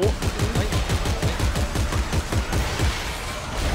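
Rapid automatic gunfire in the sci-fi horror shooter Dead Space 3, a dense, loud stream of shots that runs almost without break, then thins slightly toward the end, with no talking.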